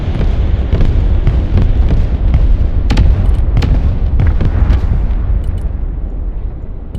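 A supply unit blows up in the military strategy game Broken Arrow, loud rumbling booms with repeated sharp blasts and crackling debris over several seconds, no voices.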